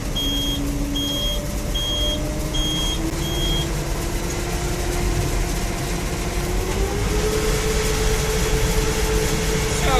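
John Deere 952 combine harvester engine revving up during soybean harvest: a loud, steady diesel drone rising in pitch as the throttle opens, with a repeating electronic warning beep early on.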